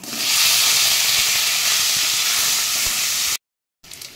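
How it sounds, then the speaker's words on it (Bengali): Potatoes frying in hot oil in a pan, a loud steady hiss and sizzle that runs alone for over three seconds before cutting off briefly, then resuming. "এবারে আমি আলুগুলো দিয়ে দেবো। আলুগুলোকেও আমি ভেজে নেব।"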